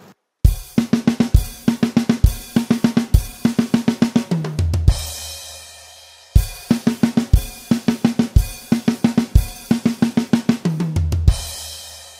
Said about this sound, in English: The second line has a fill that happens that uses the snare tom and floor tom